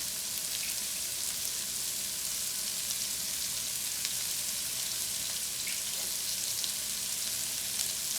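Onions sizzle steadily in a pan with parsley and sage, a continuous close frying hiss with no talk over it.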